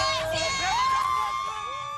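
Crowd cheering at a tailgate outside Tiger Stadium before an LSU game, with high shouts and whoops rising over a general hubbub of people.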